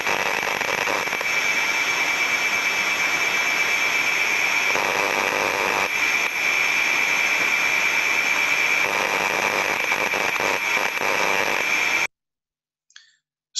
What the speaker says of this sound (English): we can hear very repetitive, very strong discharging sounds that are indicating to us that there is arcing occurring inside this cabinet.